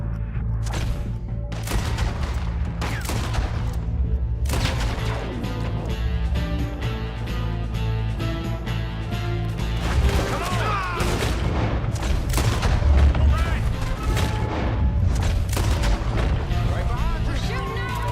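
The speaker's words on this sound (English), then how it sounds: "We're shooting our way out of here, boys!" Gunfire in the Western video game Red Dead Redemption 2 pops and booms repeatedly under music and voices throughout, dense and mid-distance.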